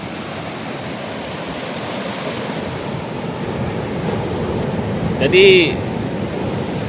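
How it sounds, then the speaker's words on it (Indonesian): Large ocean waves, roughly six meters high, roll in layers at the shore near dusk, making a continuous loud rushing surf with a brief voice speaking over it. "Ombaknya ini bisa mencapai kurang lebih 6 meter itu di hadapan saya tuh kawan"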